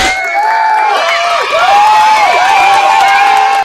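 A crowd at a Tamil political party event cheers and shouts loudly and steadily, with whoops rising over a dense, continuous roar throughout.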